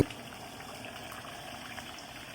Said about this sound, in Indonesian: Ini air benar-benar mendidih ya